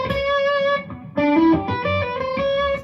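A distorted electric guitar plays a short, bending bluesy lick of sustained notes targeting major thirds and chord tones, loud and close, alone without any voices.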